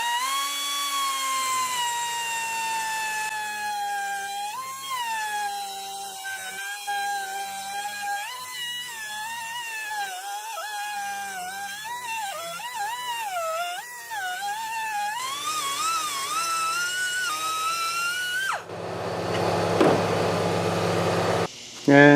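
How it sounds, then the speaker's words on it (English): Straight air grinder fitted with a rotary burr grinds a bracket on a 1966 Mustang convertible, a loud, steady high whine that wavers in pitch as the tool loads and eases, with a harsher burst near the end. "a rotary file, or a burr as it's called, goes in a straight air grinder"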